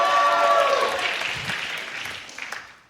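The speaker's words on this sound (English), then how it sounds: "Round of applause for parents." Audience applause at a stand-up comedy show swells right away, a loud burst of many hands clapping that gradually thins and fades over a few seconds, with a few scattered claps near the end.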